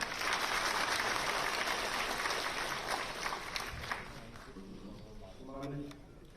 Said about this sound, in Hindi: तालियों के माध्यम से स्वागत।